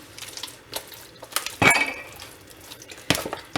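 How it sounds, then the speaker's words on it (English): Potato salad stirred in a bowl with a utensil, producing irregular scraping and clinking knocks, a couple louder clacks standing out, with no talking. "All right, so I'm going to stir this up."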